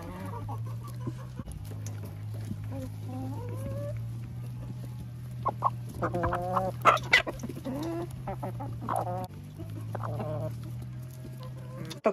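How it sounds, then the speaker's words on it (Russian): Chickens cluck and squawk while eating potatoes, with irregular nearby calls and a few louder bursts over a steady low hum, and no talking. "Куры очень любят картошку."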